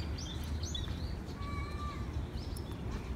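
Small birds give a few brief chirps and a thin whistled call at sunset in Incheon Peace Park. The calls sit faint and fairly near over a steady background of outdoor noise.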